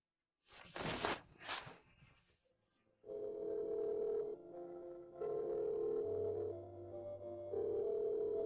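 A phone rings out unanswered through the handset: repeated steady electronic ring tones with gaps between them, preceded by a few brief clicks and handling noises, with no talk.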